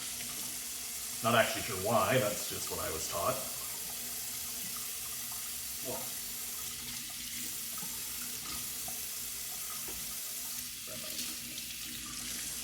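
A kitchen tap runs steadily onto an Indian mackerel fillet, a continuous hiss of water with brief louder splashes near the start, while someone talks over it.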